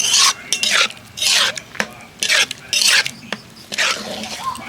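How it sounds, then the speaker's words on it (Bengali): Semolina and milk are stirred into a thick dough in a pan, with repeated scraping strokes in bursts of roughly half a second and short pauses between them. "এবার আমি নাড়বো, এইভাবে নাড়তে থাকবো।"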